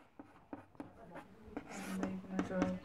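Chalk or marker writing a volume formula on a board in a physics class, a series of short scratchy strokes and taps, close and fairly quiet, with a faint voice underneath.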